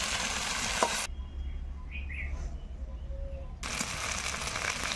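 Spices sizzle in a pan while being stirred, the frying cutting out for a couple of seconds and then returning, with faint bird chirps in the background and no speech.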